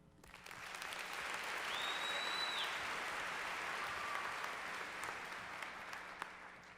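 Steady audience applause fills a fashion show hall, a dense, sustained patter of many hands clapping that swells in and holds for several seconds, with a brief faint tone drifting over it.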